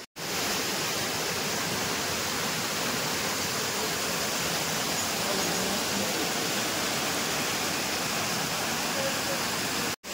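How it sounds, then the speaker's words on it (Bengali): Water rushing down toward the third waterfall near Shillong, a dense, constant roar filling the whole clip at close range, loud and unbroken with no talk audible over it. "আর এই যে জলটা চলে যাচ্ছে থার্ড ওয়াটারফলসের দিকে"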